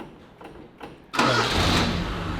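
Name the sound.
Gemini car engine starting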